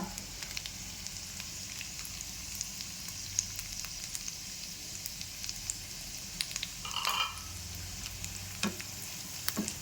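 Pistachios frying in a pan for sheer khurma, a soft steady sizzle with scattered small pops and a brief stirring scrape, heard close and fairly quiet.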